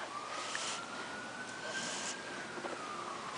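A police car siren wailing faintly in the distance, one slow rising and falling tone against low outdoor background noise.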